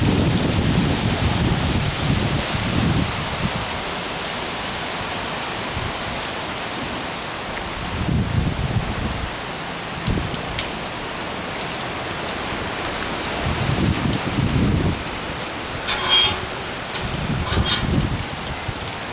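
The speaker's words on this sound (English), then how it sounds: "Wow, you can really hear those winds." Strong gusts from Tropical Storm Nicholas in Houston, Texas, roar and buffet against the microphone. A constant wash of rain-like hiss runs underneath, with heavier low rumbling bursts recurring throughout.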